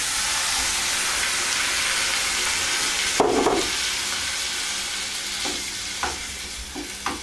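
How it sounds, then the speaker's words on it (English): Cottage pie filling of leftover roast beef sizzles steadily in a pan, with a few scraping stirs of a utensil cutting through the constant frying hiss. "Give it a stir."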